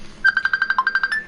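A phone ringtone trills as a quick run of about a dozen rapid, evenly spaced electronic beeps, bright and close, lasting just over a second.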